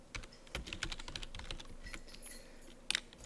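Computer keyboard typing during a tabletop role-playing session, a quick irregular run of light key clicks with a couple of sharper taps near the end, close and fairly quiet, no talking.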